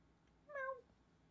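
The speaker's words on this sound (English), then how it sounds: "Meow." A cat gives a single short, clear meow, faint and close, in an otherwise quiet room.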